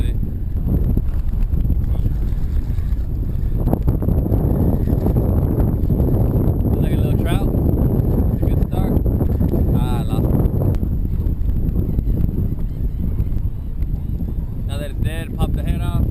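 Strong south-southeast wind of about 10 to 15 blows across open water during a kayak fishing trip, a loud, constant rushing roar buffeting the microphone throughout.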